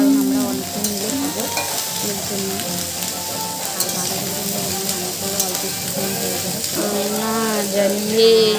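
Cabbage stir-frying in a pan, a steady dense sizzle that runs throughout, with scraping stirs near and loud and a voice speaking over it.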